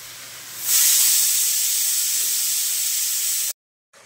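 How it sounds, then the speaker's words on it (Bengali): Chopped red amaranth greens hit a hot pan of spice-fried vegetables, setting off a sudden loud, steady hiss of steam and sizzle that holds for about three seconds, then cuts off abruptly. "আমি এবার কেটে ধুয়ে রাখা লাল শাকগুলো দিয়ে দিচ্ছি।"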